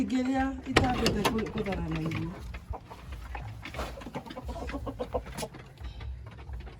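Chickens cluck in a backyard flock of young birds and a rooster, with several short calls close by over low background noise while a person talks throughout.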